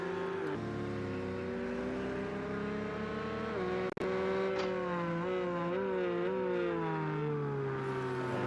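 GTE race cars, a Ferrari, a Porsche and a Ford GT, racing around Bathurst Mount Panorama in Project Cars, high engine whines rising and falling as they shift and pass, steady and fairly loud.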